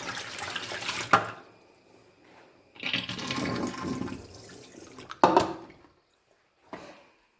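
Water pouring into a cooking pot to boil nana chembu (taro root) in a home kitchen, short splashing bursts separated by quiet gaps, close and fairly loud, no talk.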